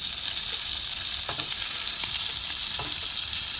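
Sausage and potatoes fry hard over high heat on a camp stove, giving a loud, dense, continuous sizzle close up with a few faint clinks and nobody speaking.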